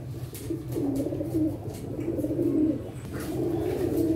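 Teddy pigeons kept in a netted enclosure give soft, repeated throaty coos in a steady rolling rhythm, close by and unaccompanied by any voices.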